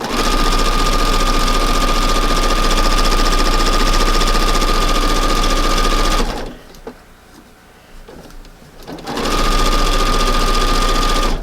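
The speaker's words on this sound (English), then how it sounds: "So I'll sew it on with about a 1/4 or 3/8 of an inch seam allowance." Sewing machine stitching a seam on fabric for a porch decoration, a loud steady mechanical whir with a fast needle rhythm, stopping for about three seconds before starting up again.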